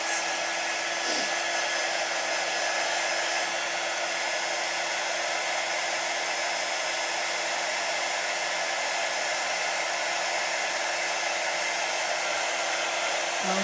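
A hair dryer blows steadily on a drying berry-themed craft project, a loud, close, continuous whoosh that runs unbroken throughout without talk.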